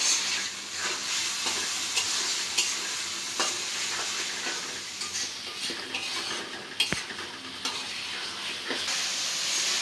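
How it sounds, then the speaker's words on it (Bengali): Rohu fish head and lentils sauté in a pan, a soft continuous sizzle with scattered metal scrapes and clinks of a spatula stirring, one sharper knock near the end. "ডালটা দিয়ে আবার কষাই নিব ভালো করে"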